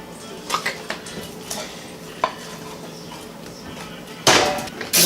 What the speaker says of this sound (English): God, you suck at stirring